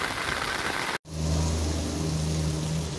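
Heavy rain pours over the town of Currais Novos, Rio Grande do Norte, as a dense, steady hiss that breaks off for an instant near the one-second mark, after which a low engine hum idles beneath the downpour.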